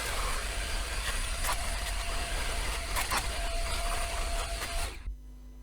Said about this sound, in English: I'm going to go get the vacuum